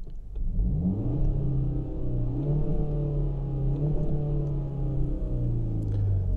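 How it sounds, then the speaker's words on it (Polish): Inside a Kia ProCeed GT 1.6 T-GDI in normal mode, the engine, boosted through the car's speakers, hums and rises in pitch, revving smoothly through several accelerations with a full, steady drone. "Wszystko za sprawą głośników, które podbijają dźwięk silnika."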